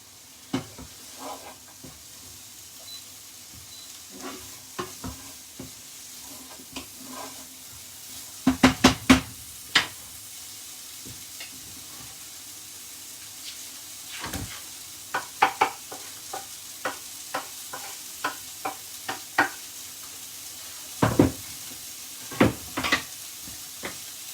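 Garlic, ginger and mixed vegetables including cabbage stir-fry over high heat for tuna rice noodles, with a steady low sizzle punctuated by sharp scraping stirs and clanks of a utensil on the pan.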